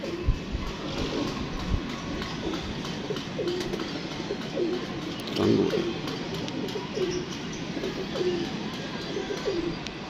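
Pigeons coo softly and repeatedly over a steady outdoor background hum, the low burbling calls recurring every second or so.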